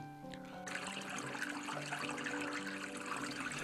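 Water runs steadily through the 17th-century cooling channels of Sukh Niwas at Amer Fort, a continuous trickling rush that swells after a quieter opening and carries on alone at moderate level.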